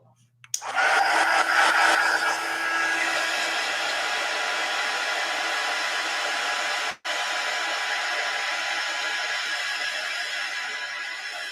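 A hair dryer switches on abruptly and blows air steadily across a watercolor painting, a loud continuous whoosh with a brief cutoff around seven seconds before resuming.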